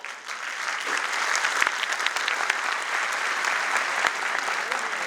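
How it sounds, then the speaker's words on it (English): An audience at a DevFest conference talk applauds together, a dense, sustained wash of clapping that fills the hall at full loudness throughout. "this person will clap, next person, we keep clapping."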